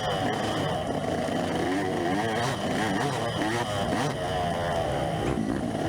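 A dirt bike engine revs and drones hard during a GNCC amateur adult race, loud and close throughout with continuously shifting pitch as it climbs and drops, and a second bike's engine mixes in.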